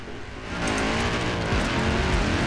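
Audi car driving in the racing video game Forza Horizon 4, a steady engine drone with tyre noise, close and continuous, rising slightly in loudness after the first half second.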